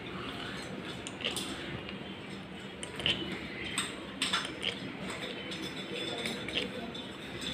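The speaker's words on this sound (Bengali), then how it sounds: "আপনি সবগুলো ঢাকনা এইভাবে লাগিয়ে নেবেন" Ceramic lids are set onto 22 cm ceramic serving dishes, producing scattered light clinks and taps against a constant low background hiss, with some faint speech-like murmur.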